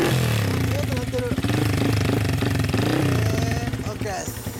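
A Honda CB250F Hornet 250 (MC31) with a Pretty Racing aftermarket exhaust idles and revs nearby, its buzzy engine note rising and falling under people talking.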